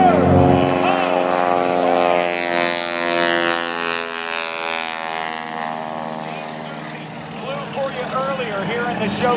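A propeller plane flies at a navy air station airshow, its engine drone loud and close with rising and falling harmonic whine, and a voice talks over it throughout.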